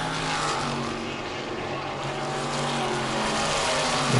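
Race cars circling an oval track, including the silver number 61 car, give a continuous loud engine drone that swells toward the end as a car draws near.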